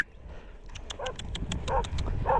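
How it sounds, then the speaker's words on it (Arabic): Two dogs barking at a cyclist on a road toward Imi n'Tanout, Morocco, one with a deeper, heavier bark; a run of sharp repeated barks, moderately close, growing louder over the clip with road and wind noise underneath. "واحد فيهم النبحه ديالو غليظه"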